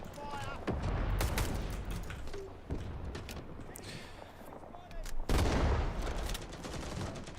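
Bursts of automatic and rifle fire crackle through a battle in the video game Rising Storm 2: Vietnam. Moderately loud volleys rise and fall, with people talking over the shooting.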